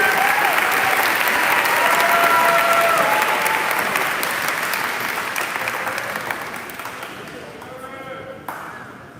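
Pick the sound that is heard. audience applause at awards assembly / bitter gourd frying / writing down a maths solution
audience applause at awards assembly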